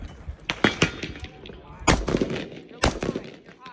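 Rifle shots ring out at an outdoor shooting range, several sharp loud cracks at uneven intervals, with people talking quietly between them.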